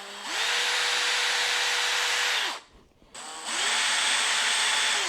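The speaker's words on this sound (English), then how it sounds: "now we can just hold it and pre-drill the holes" A power drill whirs steadily at high speed pre-drilling holes in a closet drawer, stops briefly, then spins up again for a second long run, loud and close.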